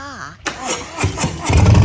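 A 2019 Harley-Davidson Street Bob with a Milwaukee-Eight 107 cubic inch (1745cc) V-twin comes to life close by, a voice briefly heard before deep low rumbling pulses build up loudly.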